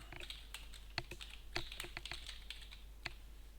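Quick, irregular keystrokes on a computer keyboard, fairly close and quiet, clicking in short bursts with a few sharper taps, with no one speaking.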